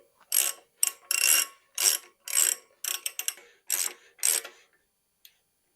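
Ratcheting clicks from a wrench tightening a bicycle bottom bracket with a 124 mm spindle on a triple-crankset bike, heard as about nine short bursts of rapid clicking in an uneven rhythm, close and clear with no talk.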